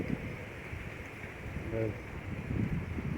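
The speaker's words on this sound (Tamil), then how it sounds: "காற்று வேறு ரொம்ப ஓவர் அடிக்குது" Steady, heavy wind roar buffeting the microphone, with someone speaking faintly underneath.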